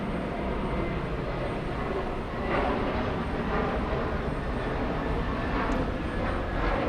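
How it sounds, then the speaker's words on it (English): A JetBlue jet airliner taking off down the runway at JFK Airport, a steady broad roar heard from a distance that grows a little fuller midway and carries on without a break. "We have a JetBlue taking off. JetBlue racing down the runway."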